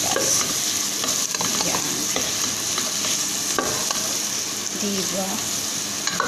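Garlic and onion sautéing in a pan for chicken afritada, giving a dense continuous sizzle with scattered clicks of stirring, and a voice speaks briefly over it.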